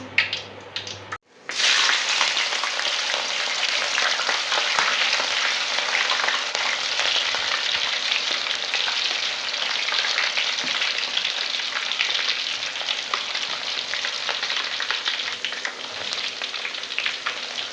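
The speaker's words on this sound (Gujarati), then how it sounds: "આપણે તેલ ગરમ થાય એટલે આપણે વેફર નાખશું તરવા નાખી દેવું" Potato chip slices are dropped into hot oil and burst into a loud, steady, hissing sizzle that starts abruptly and continues unbroken and close for the rest of the stretch.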